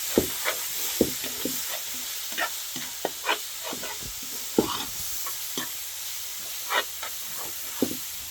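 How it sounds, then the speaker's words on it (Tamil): Masala sizzles and hisses in a hot pan while a spoon scrapes and stirs in repeated sharp clicks, close and fairly loud, cooking an egg ghee roast. "பச்சை வாசனை போகிற முடிக்கும் நல்லா வதங்க வைக்கிறோம்"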